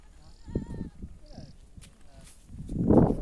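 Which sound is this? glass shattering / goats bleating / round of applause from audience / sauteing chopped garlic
goats bleating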